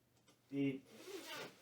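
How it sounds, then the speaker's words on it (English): A single quick zipper pull closes up a jacket and hoodie, brief and close, with soft rustling of fabric afterward. "So you zip all this up."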